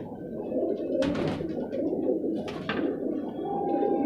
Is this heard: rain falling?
no